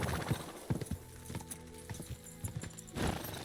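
Horse hooves clatter in an irregular clip-clop rhythm during a horse race in Kingdom Come Deliverance II, with sharp nearby hoofbeats and a brief whinny-like sound amid light background noise.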